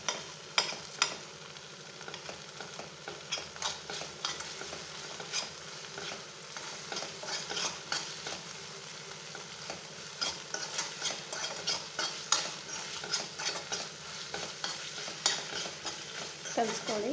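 Paneer pieces being stirred in a frying pan, with steady scraping and a sustained sizzle, with irregular clatter of the spatula against the pan throughout.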